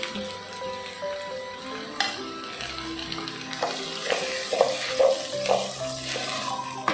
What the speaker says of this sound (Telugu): ఇవి 1 నిమిషం వేగనిచ్చి